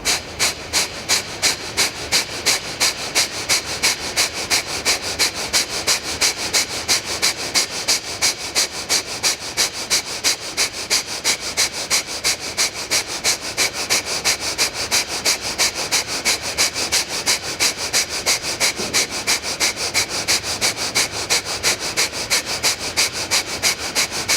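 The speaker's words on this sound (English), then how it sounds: "It's a short, sharp exhale out of the nose." Kapalabhati yoga breathing made of rapid, forceful short exhales through the nose, a steady rhythmic train of sharp sniffing puffs roughly three per second that continues evenly and loudly for the whole stretch without speech.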